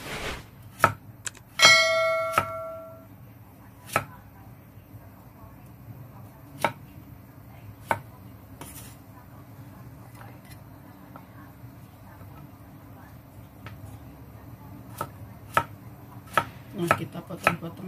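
Young papaya is chopped on a board in sparse, sharp knocks spaced a second or more apart, close by, with a brief ringing clang early on and faint background hum.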